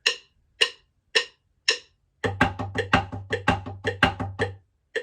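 Four evenly spaced metronome clicks, then a snare drum joins with quick triplet strokes, some accented, over a steady low hum, ending on a single hit.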